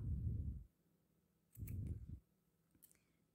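Scissors snipping yarn during crochet work, two short close crisp cuts separated by a pause, with faint clicks afterward in a quiet room.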